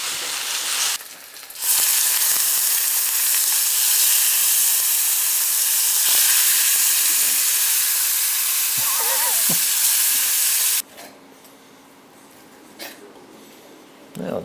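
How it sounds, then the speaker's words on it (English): Duck breast seared hot in a pan for fajitas, a loud continuous sizzle and hiss that runs for about nine seconds and then drops away abruptly, leaving quieter room sound with faint speech. "we'll sear them hot on both sides"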